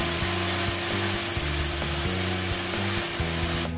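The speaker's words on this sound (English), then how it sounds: "We are trying to vacuum out the remaining coolant. So that's what you hear in the background." Vacuum pump sucking coolant out of a Toyota Corolla: a loud, steady mechanical drone with a rhythmic low chugging pulse and a constant high whine, cutting off at the end.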